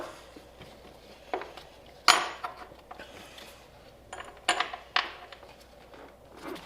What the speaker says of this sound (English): So we just put our clamp back on.